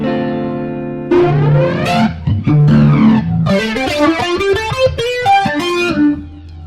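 Electric guitar played through the natural overdrive distortion of a Boss GT-1000 multi-effects unit, with loud sustained chords and a run of rising and falling distorted notes, with no talk.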